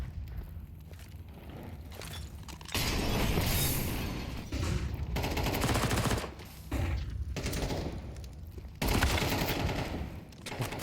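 A flashbang grenade and gunfire during a professional Rainbow Six Siege match, with loud sustained bursts of shots and sharp booming blasts broken by short quieter gaps.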